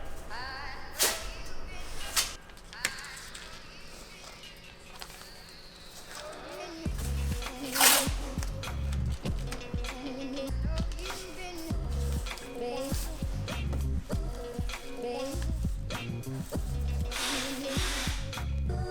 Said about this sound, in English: it's time to grab that tape and mask off the tire